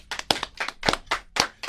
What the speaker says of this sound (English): Let's give a live hand clap for Mr.